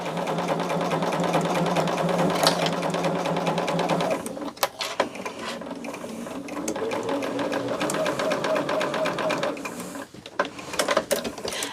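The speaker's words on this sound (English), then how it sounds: "I'm just going to go straight up and down this until I have this quilted." A sewing machine quilts fabric for a small manicure-set project, stitching straight lines. It makes a loud, rapid, steady mechanical whir with short pauses and clicks around the 4 and 10 second marks, with no talk over it.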